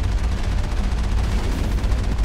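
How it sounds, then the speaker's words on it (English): Sustained heavy cannon fire from the Mako armored vehicle in the Mass Effect video game, a loud, dense stream of booming blasts running continuously with no pauses. "The Mako's cannon ignores shields."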